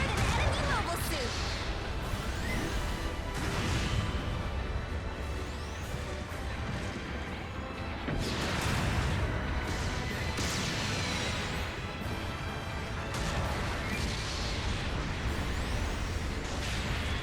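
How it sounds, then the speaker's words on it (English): Long-range artillery support fire in the mecha game Gundam Battle Operation 2 comes as a steady barrage of booming blasts and crashing impacts. Several loud bursts hit in waves over constant rumble, with some talk mixed in. "Long-range supporting fire's coming in hot."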